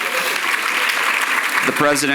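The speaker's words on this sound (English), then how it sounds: "let's start with applause for our very special guest" Audience applause greets a special guest, the Cook County Board president, at a City Club event, a steady broadband wash of clapping throughout with a voice emerging near the end.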